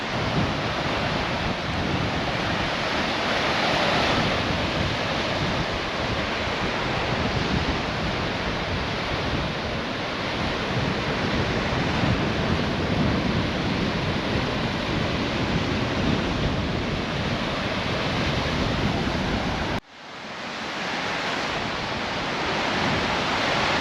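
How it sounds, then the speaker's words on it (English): Strong wind buffets a GoPro HERO10 microphone with the Media Mod outdoors, a loud, steady roaring rumble with no talk, cutting out abruptly near the end before a softer wind resumes. "the din of the noise of the wind, even on my ears, is pretty severe"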